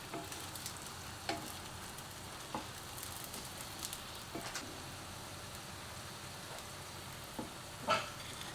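Xianbing, Chinese meat pies, fry in oil in a pan with a continuous close sizzle and crackle, broken by occasional soft bumps and a brief louder clatter near the end.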